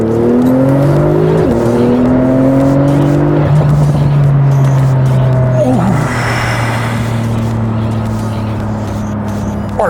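A TechArt-tuned sports car exhaust roars loudly up close, revving hard with rising engine notes, then crackles and pops as the throttle is lifted, with a pause and a second surge of acceleration.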